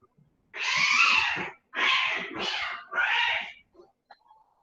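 A cat cries out in several loud, drawn-out yowls, four wailing calls in close succession, then a few faint noises.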